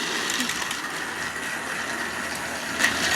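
Battery-powered Thomas and Friends Trackmaster toy trains race along a plastic track, giving a steady, even whirring motor buzz with faint rattling throughout and a brief louder clack near the end.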